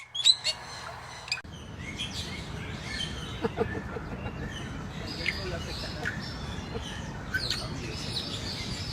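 Bali starling song, a white bird with purplish eye patches, as a series of sharp chirps and whistled calls over a steady, noisy background, following a short opening burst.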